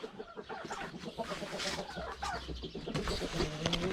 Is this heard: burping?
no